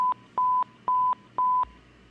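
A Signal 100 panic-button setup plays a howler alert. Short electronic tone bursts sound in a regular rhythm, three paired beeps evenly spaced across two seconds, clean and fairly quiet against a silent background.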